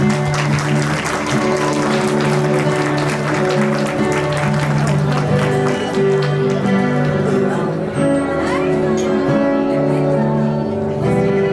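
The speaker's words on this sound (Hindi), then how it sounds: "हम सभी लोग जो है उनके लिए ताली बजा सकते हैं।" Wedding guests clapping at a church ceremony, a steady patter of many hands under a loud sustained musical tone and a voice talking.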